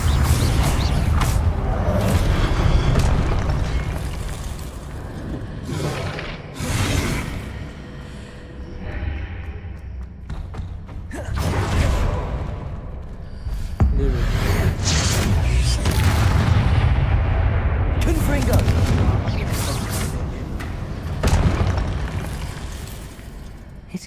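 Confringo spell explosions in Hogwarts Legacy, repeated loud booming blasts and crackling bursts spread across the scene, mixed with game combat noise and occasional voices.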